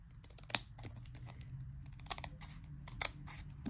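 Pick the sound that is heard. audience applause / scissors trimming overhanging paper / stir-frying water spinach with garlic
scissors trimming overhanging paper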